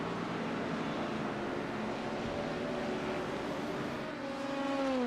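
An LMP2 race car circuits the track during the 24 Hours of Zolder, a sustained engine drone heard from trackside that rises in pitch near the end as it accelerates, with no voices.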